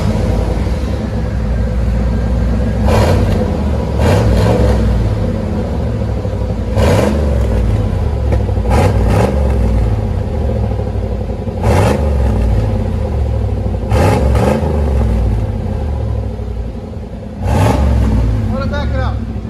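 Chevy/GMC 1500 truck with a 5.7L V8 and Flowmaster Super 10 exhaust, idling with a loud, steady rumble and several sharp revs rising and falling, close to the tailpipe, with a little talk underneath.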